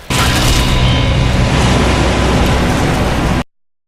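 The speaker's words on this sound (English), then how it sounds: "Then you fight the Kraken and shoot it down!" A loud, sustained explosion roars from a video game as the Kraken is shot down, a dense, rumbling blast lasting several seconds before cutting off abruptly, with no talk.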